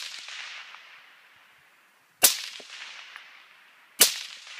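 A suppressed 5.56 rifle with a Kestrel suppressor fires outdoors, two sharp cracks about two seconds apart, each trailing off in a long echoing decay after an earlier shot fades.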